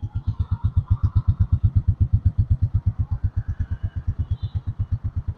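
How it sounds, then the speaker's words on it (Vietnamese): A Honda Dream motorcycle engine starts and idles close by with a steady, even chugging rhythm of rapid low pulses, running quietly alone without voices. "Bây giờ mình sẽ nổ máy cho anh em nghe ha."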